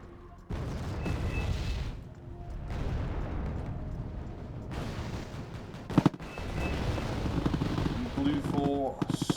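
Artillery barrages rumble through a Wargame: Red Dragon match, with sustained booming and crackling battlefield fire, a sharp burst of impacts near the middle and rapid shots toward the end, under a commentator talking throughout.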